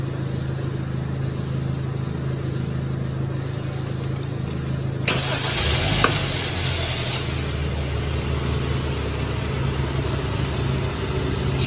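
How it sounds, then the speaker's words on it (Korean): A car engine cranks and catches partway through, then settles into a steady idle ahead of an engine oil level check, a low even hum with a brief burst of mechanical noise at startup and no talking. "오일 게이지를 확인하기 전에 시동을 먼저 걸겠습니다."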